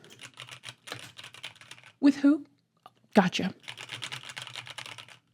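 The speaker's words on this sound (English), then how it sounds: "Shout out Logitech keyboards, random, because I love these little click-clacky sounds." Fingers tap quick bursts of clicky keystrokes on a Logitech computer keyboard, close and crisp, pausing while two people exchange a few short words before the typing resumes.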